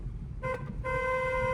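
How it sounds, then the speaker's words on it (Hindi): A car horn sounds at a T-junction during a beginner driving lesson: a brief toot, then a long, loud, steady blare that holds to the end over low engine rumble. "अब यहाँ पे एक लॉन्ग हॉर्न प्रेस करो, क्योंकि टी पॉइंट है यहाँ पे।"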